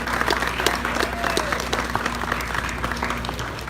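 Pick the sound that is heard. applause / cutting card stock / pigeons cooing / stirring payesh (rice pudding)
applause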